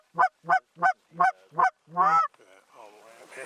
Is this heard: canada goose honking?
yes